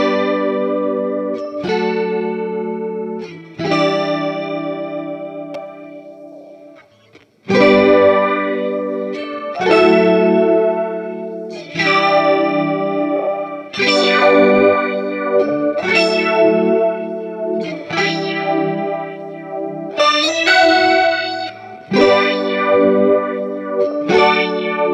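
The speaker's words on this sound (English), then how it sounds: "We can approximate that with phaser pedals." Electric guitar chords run through a phaser pedal whose LFO sweeps the tone in a slow swirling motion; a series of strummed chords rings out clearly, with no talking.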